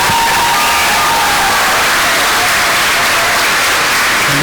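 A school assembly crowd applauds and cheers for the newly crowned fall homecoming king and queen, a loud, dense wall of clapping with shouts mixed in, sustained throughout.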